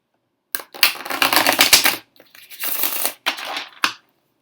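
Tarot cards riffle and rustle in quick, dense bursts, three shuffles in close succession with brief gaps, crisp and near.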